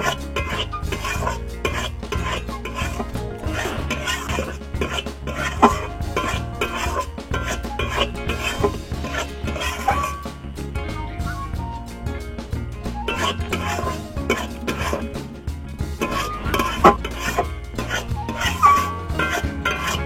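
Flour being stirred as it fries in a pan for sugar-and-flour sohan papdi makes continuous close scraping and rasping, with a utensil rubbing steadily against the metal.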